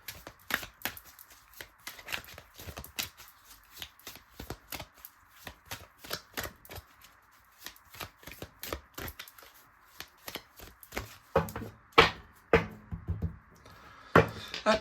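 Tarot cards are shuffled by hand in repeated quick riffling bursts, close and crisp, with rapid rhythmic flicks that grow louder and heavier toward the end; no one speaks.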